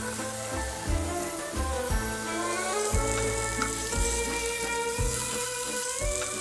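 Fillet of beef searing in a preheated hot pan gives a steady, close sizzle and crackle that holds at an even level without a break.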